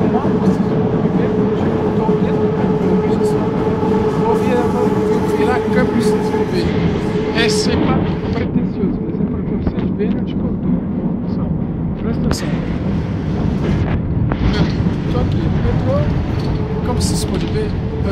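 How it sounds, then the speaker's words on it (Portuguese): A Paris metro train fills the space with a steady rumbling roar, a sustained hum and occasional high metallic squeals, loud and close throughout, with voices faintly present underneath. "Eu estou aqui em Paris, no metrô"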